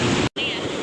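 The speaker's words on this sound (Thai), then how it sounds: "คลื่นแรง มาก" Strong sea waves at a beach in Phuket roar as a loud, broad rushing wash, broken by a momentary gap, with wind buffeting the microphone.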